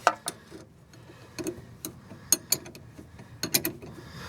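A ratchet wrench tightening a sway bar link nut on a 2007 Ford Focus, giving irregular sharp mechanical clicks and ticks spaced through the span, close and fairly quiet.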